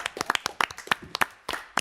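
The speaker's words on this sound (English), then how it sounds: "I think we should give a round of applause to all those students and the superintendent." A small group at a Lammersville school governing board meeting claps for students and the superintendent, sparse distinct hand claps close by in an uneven rhythm, with no talk.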